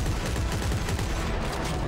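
Gunfire in the Dead Space 3 video game, a steady, muffled stream of rapid shots with no pauses, fairly quiet and mixed into a dense background.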